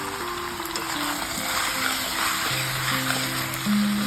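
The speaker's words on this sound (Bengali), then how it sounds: "এবার আমি চিংড়ি দিয়ে দিচ্ছি কাঁচা লঙ্কা দিয়ে দিচ্ছি" Large freshwater prawns and green chillies hit the pan of frying pumpkin and potato curry, giving a steady, moderate sizzle with low background hum and tonal music running underneath.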